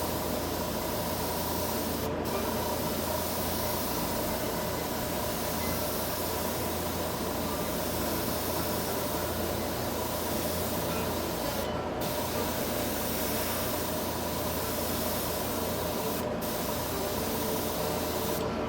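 An airbrush sprays paint onto a 1:350 scale Enterprise refit model during Aztec panel painting. A soft, steady hiss runs almost without a break and is cut by a few brief pauses. It is close and quiet, with no talking.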